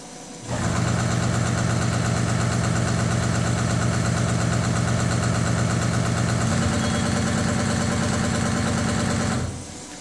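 A CNCMAN 1525 CNC stone polishing machine's spindle runs up and holds a steady loud hum, its pitch shifting upward partway through before it winds down at the end, with no talking.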